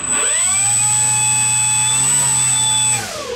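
Electric motor and propeller of an RC Extra 300 model plane spinning up to full throttle with a loud, steady high whine, held for about three seconds and then cutting off, up close with no talking.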